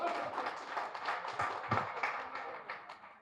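An audience claps at a tricycle distribution event in a Hyderabad hotel hall, steady dense applause throughout with a few louder individual claps standing out.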